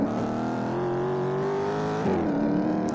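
A Mustang in a Vegas gangster video game holds a steady engine drone, its pitch rising slightly and then dropping as it slides, close and alone with no speech.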